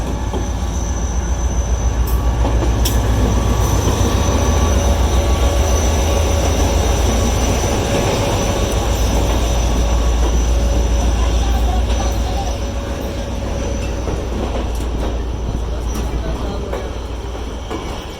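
The 48 Down Rehman Baba Express rolls into Hyderabad station about four and a half hours late, a loud steady rumble of wheels and carriages with a faint squeal, continuous and close throughout and easing slightly toward the end.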